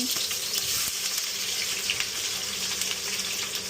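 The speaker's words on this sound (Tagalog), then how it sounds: "So, onion ay ilalagay natin sa paggisa." Onions sautéing in a pan for a corned beef supper give a steady, close, loud hiss and crackle of frying with faint stirring scrapes, unbroken throughout with no voices.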